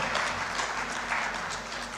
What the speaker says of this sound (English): Please, another round of applause for His Excellency,